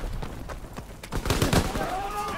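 Gunfire in the video game Call of Duty WWII: a few sharp shots crack in quick succession amid game noise, with a burst of louder activity midway.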